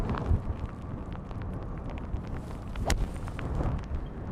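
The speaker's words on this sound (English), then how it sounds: "I can do without that gust" Gusty wind buffets the microphone at Pebble Beach golf links on a rainy day during a pro-am range session, a steady broadband rumble with a sharper gust swelling near the end.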